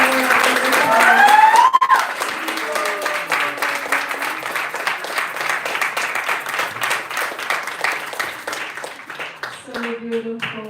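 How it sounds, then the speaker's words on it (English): A festival audience applauds after a heartfelt dance, with sustained clapping from a crowd under a speaking voice that starts the clip and returns near the end. "please let's give her another round of applause"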